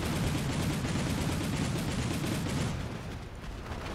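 Dense rapid gunfire crackles in the wargame Combat Mission: Shock Force 2, a loud unbroken fusillade of overlapping shots that thins out slightly toward the end.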